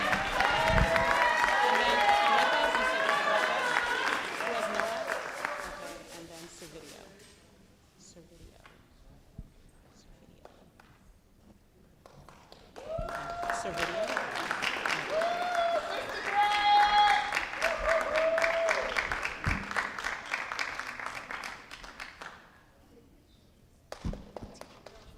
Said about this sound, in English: You got a cheering section.